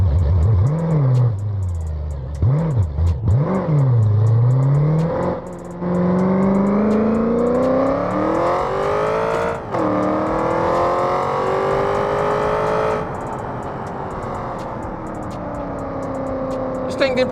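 A drag car in BeamNG Drive runs a no-prep pass on nitrous with a loud lumpy engine, revving up through gears in rising sweeps then holding a steady high drone, with talking over parts of it.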